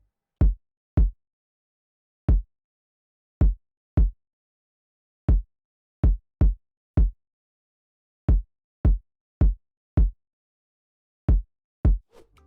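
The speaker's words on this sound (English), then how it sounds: "I added a kick" Kick drum sample in an FL Studio trap beat, deep punchy thumps hitting alone in an uneven, syncopated pattern, each short and clean with silence between.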